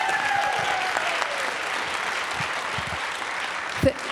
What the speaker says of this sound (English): A round of applause for our panel members.